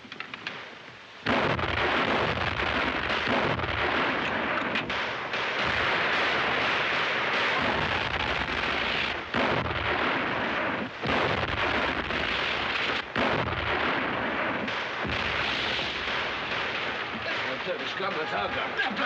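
Heavy artillery and gunfire thunder through a battle scene in The Four Feathers, with a Turkish gun firing on troops near an arsenal. Dense, loud, continuous booms and blasts are punctuated by sharp cracks, with voices shouting over the noise.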